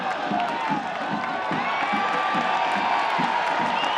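Stadium crowd at a Phoenix Rising FC versus El Paso Locomotive FC soccer match, cheering and roaring steadily with whoops and some clapping, loud and sustained across the whole moment.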